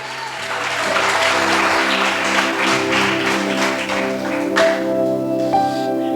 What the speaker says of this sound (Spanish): Dale palmas desde tu cielo, dale palma, dale palma, dale palma, dale palma al Santo de Israel eterno.